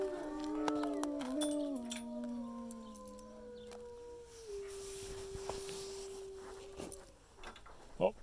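A wolf at a wolf sanctuary gives a long, sliding howl that slowly falls in pitch and fades, other voices wavering alongside at first, with gate clanks and scattered knocks nearby.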